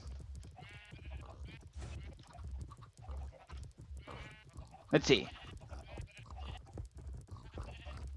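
Minecraft sheep bleat in several short calls, with one louder bleat standing out, mixed in with someone talking over low game background noise.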